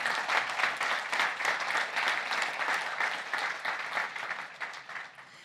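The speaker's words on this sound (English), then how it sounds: "So another applause for Jim." Steady audience applause at an institute symposium's welcoming remarks, a moderate, even wash of clapping lasting several seconds without a break.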